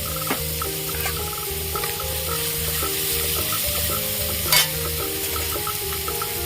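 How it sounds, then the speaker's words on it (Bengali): Ginger paste frying with tomatoes in a pan, a steady close sizzle with stirring scrapes and one sharp clatter, over soft background music. "টমেটো ভাজা হয়ে গেছে এবার আমি আদা দিয়ে দেবো"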